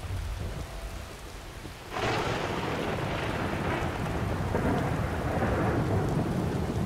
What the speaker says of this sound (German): Blitzen und donnern tut's.